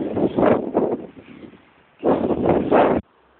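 Gusty wind buffets the microphone outdoors on a busy, cold, dark December street, coming in two loud rumbling bursts with a quieter lull between them and nobody speaking.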